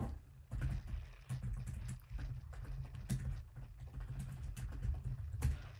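Keystrokes tap on a computer keyboard in uneven bursts, crisp clicks and thumps coming close and moderately loud with short pauses between runs and no speech.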